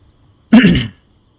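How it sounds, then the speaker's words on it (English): A single short, close throat-clearing cough bursts out after a near-silent pause, then fades quickly back to quiet. "Excuse me for coughing in your ear."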